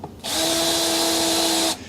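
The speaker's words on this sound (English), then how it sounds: "You can totally use a drill." A power drill drives screws into a 1989 Peavey Tracer guitar during a restoration, producing one steady, loud, high whine that runs for about a second and a half and then stops.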